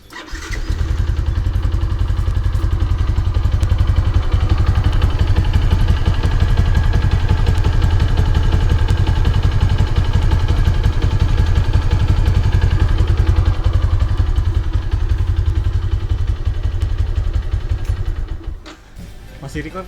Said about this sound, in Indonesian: kita nyalain mesinnya.